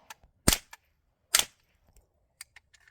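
Two suppressed .22 gunshots fired with subsonic rounds through a Huxwrx Flow titanium suppressor, each a short sharp close crack about a second apart, followed by faint mechanical clicks.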